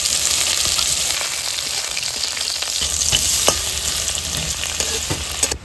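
Vegetable stalks dropped into hot oil with bay leaf, cumin and black cumin, giving a loud, dense, continuous sizzle with a few stirring scrapes, close and without pause.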